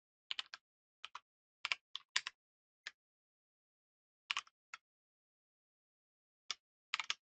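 Short bursts of keystrokes on a computer keyboard while entering SystemVerilog code, clustered in quick pairs and triplets with silent gaps between, close and clear with no voices.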